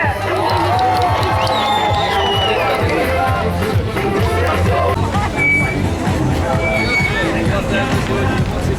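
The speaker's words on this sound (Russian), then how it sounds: "А Цивильск дружно приветствуют друг друга аплодисментами!" Crowd at the opening of a new stadium in Tsivilsk, Chuvashia, loud and continuous, with cheering, applause and dense babble throughout and voices calling over the top.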